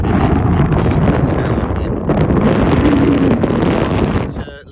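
Strong wind buffeting the microphone at a campsite in Newgale, Pembrokeshire, a loud roaring rush that swells and eases before dropping away at the end.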